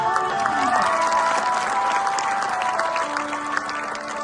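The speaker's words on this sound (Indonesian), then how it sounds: "Tepuk tangan untuk anak Indonesia." Applause for Indonesian children at a National Children's Day event, steady clapping from a crowd filling the whole stretch with some voices mixed in.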